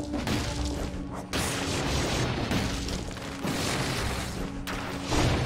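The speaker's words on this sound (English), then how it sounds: "I don't mind throwing two tiny grenades" Tiny grenades explode in the video game Dead Cells as a series of loud, crunchy bursts, each followed by a sustained noisy rumble, layered over steady game sound with a humming tone beneath.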